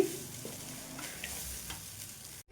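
Garlic chili powder being stirred into rice in a pan, a steady scraping and mixing over a soft sizzle, close and continuous, ending in a brief silence.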